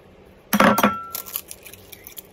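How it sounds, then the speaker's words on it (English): Egg cracked one-handed against a bowl while making breakfast quesadillas: one sharp close clink and crunch of shell on the rim, then faint small clicks and quiet kitchen noise. "you're going to have to crack three of the eggs into the bowl"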